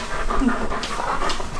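Dogs pant steadily and close by in a home on a holiday morning, a continuous quick breathy rhythm with a faint whimper mixed in.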